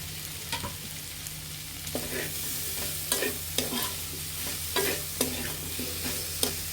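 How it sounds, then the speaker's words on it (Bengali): Potatoes and chopped tomatoes sautéing in a pan for a prawn curry, giving a steady close sizzle broken by regular spatula scrapes and taps against the pan, with no one speaking. "এভাবে কিছুক্ষণ কষিয়ে নিব"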